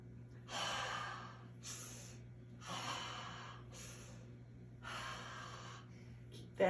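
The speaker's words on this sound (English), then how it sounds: "lots of fast breathing." Rapid, forceful breathing during a cat-cow stretching exercise, a series of sharp exhalation bursts in an irregular rhythm, close and fairly quiet over a faint steady hum.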